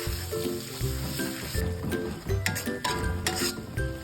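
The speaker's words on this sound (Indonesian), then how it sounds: "Tumis bumbu yang di blender tadi hingga harum matang dan tanak." Blended spice paste sautés in a pan with a steady sizzle, punctuated by repeated clinks and scrapes of a utensil stirring against the pan, close up and without talk.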